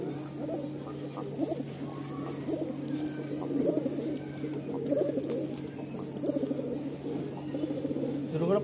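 Madrasi pigeons in a breeding loft give soft, low, repeated coos against a faint continuous hum.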